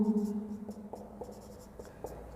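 Handwriting on a board during a Class 10 chemistry lesson on carbon compounds, heard as a series of short, soft scratchy strokes with small taps, close and fairly quiet, with a faint low hum underneath.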